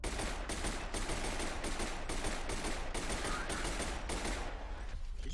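Sustained gunfire in the F.E.A.R. shooter game, a dense run of rapid, evenly spaced shots at steady loudness that tails off near the end, with no talking.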